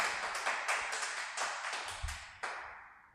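A small group of young people claps in a hall at a public engagement event, a brisk, moderately distant patter of hand claps with a few sharper accents, fading slightly, with no talking.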